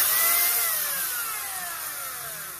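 A Makita MUC350 chainsaw with a 350mm bar runs at high speed, a loud, close whine that slowly drops in pitch and fades slightly as the engine winds down over a couple of seconds.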